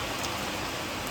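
Steady rain pouring down during a wet spell, a dense, even hiss of drops close by with no pauses and no voices.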